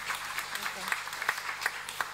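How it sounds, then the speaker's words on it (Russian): Audience at a conference session of the Kyiv International Economic Forum 2019 applauding, a dense, steady patter of many hands clapping with soft rhythmic swells throughout. "думаю, заслуживает аплодисментов."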